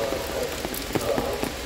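Heavy nighttime rain in the city of Lviv, a steady dense hiss of downpour with scattered louder drop impacts, close and continuous with no voices.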